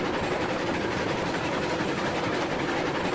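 A steam locomotive in the railroad game Railroads Online runs steadily, with a continuous chugging rumble and rolling clatter that stays fairly loud and even, with no voices.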